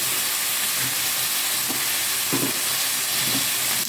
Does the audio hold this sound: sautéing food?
yes